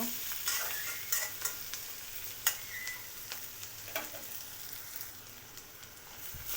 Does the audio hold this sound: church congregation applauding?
no